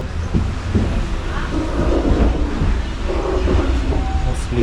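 A train pulls into Ratnagiri railway station with a loud, continuous rumble and rolling clatter of carriages close by, while faint voices murmur on the platform.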